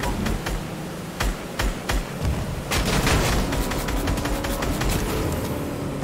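Rapid bursts of gunfire crack repeatedly, scattered shots then a denser volley over a constant rumbling background.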